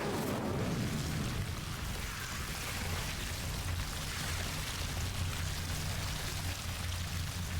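The Incendio fire spell is cast in Hogwarts Legacy, giving a loud, continuous roaring rush of flame with a rumbling low end that holds steady for several seconds.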